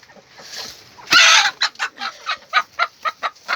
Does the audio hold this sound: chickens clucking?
yes